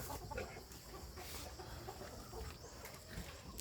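Burmese fighting chickens cluck softly and repeatedly in a free-range yard, faint and scattered amid steady outdoor background noise with no talking.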